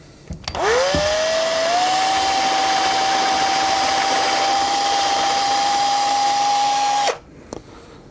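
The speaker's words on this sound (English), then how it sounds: "The drill I'm using for this is a flat spade bit." A power drill fitted with a quarter-inch flat spade bit whirs up and holds a steady high whine for about six seconds, then winds down and stops; loud and close, no talking.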